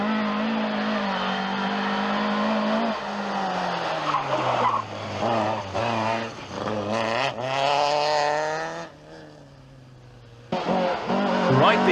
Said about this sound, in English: With a screech of brakes echoing through the trees, the fastest Russian, Tumul Jarvichus, slides into sight